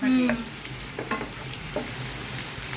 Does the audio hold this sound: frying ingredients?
yes